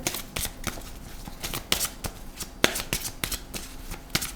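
Oracle cards being shuffled by hand, a rapid irregular run of crisp papery riffles and slaps, close and fairly loud, continuing steadily throughout without speech.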